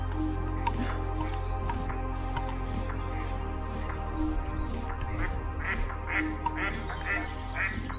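Ducks quack repeatedly at a lake beside a road in the Comer Woods, the calls scattered and overlapping over a steady low rumble of outdoor noise, moderately distant.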